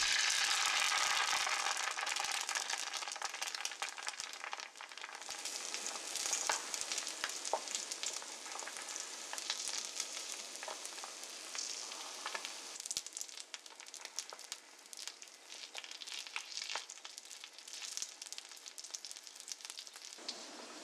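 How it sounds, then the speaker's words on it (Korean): Eggs and sausages fry in a well-heated pan, giving a dense, continuous sizzle and crackle that stays close and steady throughout, with small pops and occasional rattles. "잘 달군 팬에 계란 후라이,"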